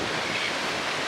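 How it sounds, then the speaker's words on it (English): Wind buffets a camera microphone at a blustery lookout above Cape Town, a dense, steady roaring rumble that fills the short clip with no voices. "I apologise if it's not great, it's very windy here."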